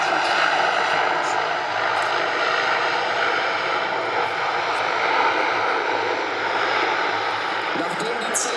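Transall C-160 military transport aircraft on a very steep approach at an air show, its propeller engines giving a steady, loud broadband drone throughout, with a voice talking over it.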